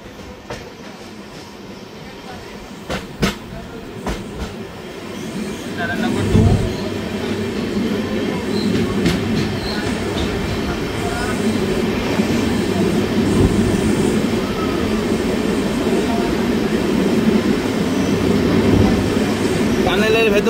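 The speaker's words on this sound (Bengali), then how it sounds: "টানেলের ভেতর দিয়ে যাচ্ছে এখন আমাদের ট্রেন" Kolkata–Sairang train 13125 running through a tunnel, a few sharp clicks giving way to a loud, enclosed rumble and rattle of wheels that builds and holds steady.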